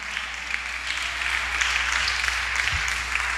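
Audience applause rolls on as a continuous, even wash of many hands clapping, moderately loud with no voices standing out.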